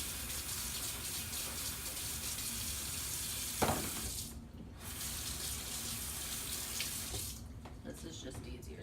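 Tap water runs steadily into a kitchen sink as a knife is washed while cooking chicken chili, a continuous broadband gush with a brief clatter near the middle and a short pause before the flow resumes.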